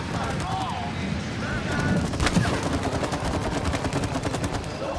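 Rapid gunfire as players shoot at wasps in the co-op video game It Takes Two, a dense run of quick shots continuing throughout under excited voices and game sounds.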